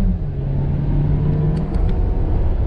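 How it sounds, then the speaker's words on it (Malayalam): A Kia Carens, a 7-seater family MPV, spins its wheels with a loud, steady engine roar and a low rumble, a few faint high squeaks coming through near the end. "Wheel spin."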